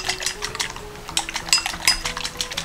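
Rapid whisking of an egg mixture seasoned with salt and pepper and thinned with water, a utensil clicking steadily against a bowl in quick repeated strokes, close and clear, while shrimp chili is being prepared.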